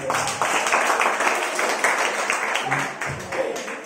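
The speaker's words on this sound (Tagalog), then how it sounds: "Isa nga pong malakas na palakpak sa ating Panginoon." A church congregation claps loudly and steadily for a few seconds, a dense patter of many hands with some voices mixed in.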